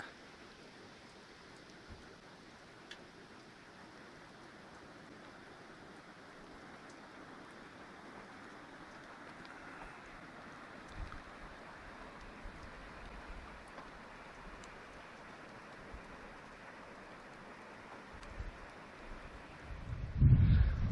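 A soft, steady hiss of light rain falls throughout at a camp in the Rio Chama Canyon Wilderness, quiet and even, with a louder rustling bump right at the end.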